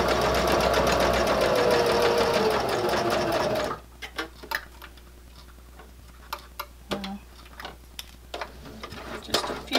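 A sewing machine runs fast and steady, stitching fabric into a corner on a bag handle cover, then stops abruptly, leaving scattered small clicks and taps of handling the fabric and clips.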